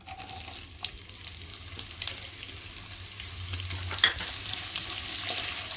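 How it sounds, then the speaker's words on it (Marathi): Whole spices crackle and sizzle steadily in hot oil with small pops and a few sharper spits, close up, with no one talking. "खडा मसाला घातला आहे मी गरम तेलामध्ये"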